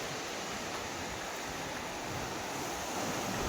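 Sea water laps and washes steadily at a jetty on the coast at Kashid as the tide begins to rise, a continuous broadband wash heard alone with no talk.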